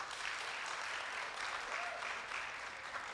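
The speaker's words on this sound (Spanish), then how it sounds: "los que fueron, den un aplauso conforme a cómo estuvieron ese campamento" A church congregation applauds in a steady, dense wash of clapping that lasts throughout the clip.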